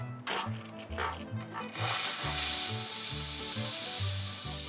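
An espresso machine's steam wand hisses steadily over a low, rhythmic rumble and clunking from the machine, with broad airy noise swelling and holding in the second half.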